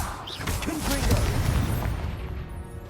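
A Confringo spell explosion in the video game Hogwarts Legacy erupts as a loud, rumbling boom that swells and then fades, with a shouted voice briefly over it.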